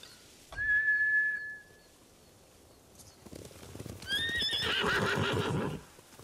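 Samurai horses whinny loudly in the video game Ghost of Tsushima, with a high drawn-out neigh, then a fuller burst of neighing, snorting and hoof clatter over a steady ambient bed, without speech.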